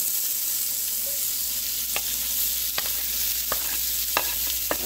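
Onion dropped into a hot pot of sizzling oil for a chicken, sausage and tasso sauce piquante, stirred with scattered scraping clicks over a steady close frying hiss, no talking.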